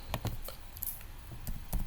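Keystrokes on a computer keyboard while laying out a wedding magazine cover in CorelDraw, a quick irregular run of close, light clicks alone with no talk.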